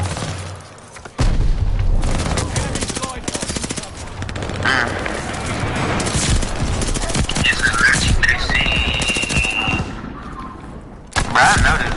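Automatic gunfire in a PS4 zombies shooter game rattles out in rapid, loud bursts with booming impacts and chaotic game effects, pausing briefly before the firing resumes.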